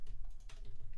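Computer keyboard keys are pressed in quick succession while working in 3D modelling software, with close, crisp clicks and a soft steady rhythm.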